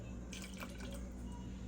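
Half a cup of water is poured into a pot of cream of turkey soup thickened with flour and butter, giving a brief splashing trickle against a low kitchen background hum with no voices.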